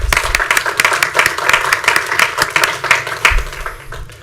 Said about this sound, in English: I just want to be able to thank you and give a round of applause for our fire.